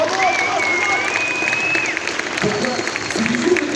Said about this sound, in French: Applaudissements pour Patrick